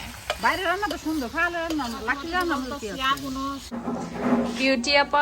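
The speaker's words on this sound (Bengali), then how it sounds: "এখানে বেগুন আলু ভাজা দাও তো" Eggplant and potato slices sizzle in a pan over an evening village cooking fire outdoors, a steady frying hiss running beneath close, lively voices talking throughout.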